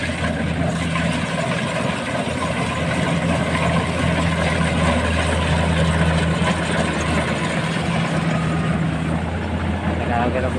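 A rice harvester's engine runs in a rice field in Calumpit, Bulacan, giving a steady, close, low mechanical hum that stays even throughout.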